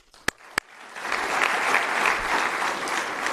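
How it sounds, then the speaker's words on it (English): Two sharp isolated claps ring out, then audience applause swells and holds steady as football seniors are honored at an award ceremony. "please applaud them as they go"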